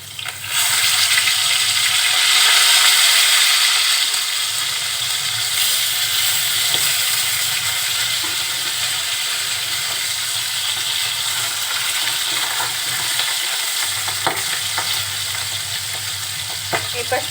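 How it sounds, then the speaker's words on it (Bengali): Pieces of rohu fish fry in hot oil in a pan, a steady loud sizzle and crackle that runs throughout, with occasional stirring scrapes and no talking. "এই পাশটাও এখন খুব সুন্দরভাবে ভেজে নিব।"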